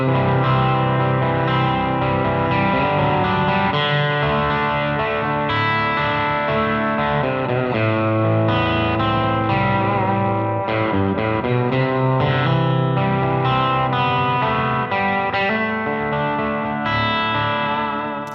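A Fender American Professional Classic Stratocaster plays continuous chords and runs through effects, with a distorted, chorused, slightly echoing tone that stays loud throughout.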